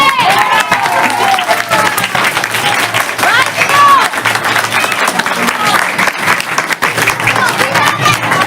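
A large audience at a musical drama and dance performance applauds loudly and steadily for several seconds, dense clapping with a few cheers mixed in.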